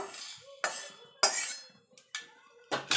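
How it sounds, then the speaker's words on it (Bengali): Fried spice mix scraped from a pan onto a dry plate, heard as several sharp metallic clinks and scrapes of a utensil against cookware, close and isolated, with quiet gaps between them. "একটা শুকনো প্লেটে আমি নামিয়ে নেব।"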